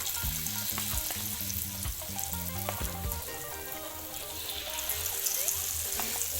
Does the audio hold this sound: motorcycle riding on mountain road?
no